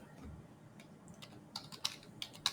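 Keys tapped on a computer keyboard, quiet at first and then a few sharper clicks in short irregular bursts, close by with no voices.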